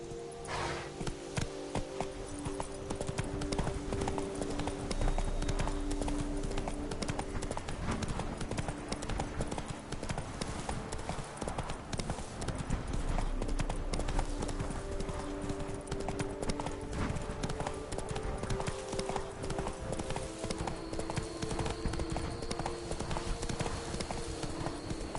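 Horse hooves trot steadily in Witcher 3: Blood and Wine, a continuous close clip-clop over game ambience lasting the whole stretch, with a faint voice now and then.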